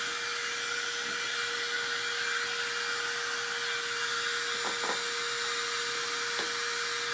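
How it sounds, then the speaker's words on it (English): A steady, loud whirring hum of a small handheld craft dryer running continuously without pause, with a constant whine throughout. "let's go ahead and use my little handy dandy dryer"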